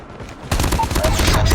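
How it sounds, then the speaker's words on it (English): A sentry gun in Call of Duty Mobile opens up in a sudden burst of rapid automatic fire, loud and close, continuing for about a second after a brief quiet lead-in, with game sound effects mixed in. "Sentry gun deployed."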